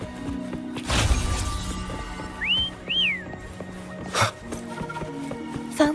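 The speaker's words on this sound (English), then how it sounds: "Try whistling." In the Wuthering Waves video game, a character whistles to call a companion: two short rising whistle notes in quick succession over game ambience with scattered thumps and clatter.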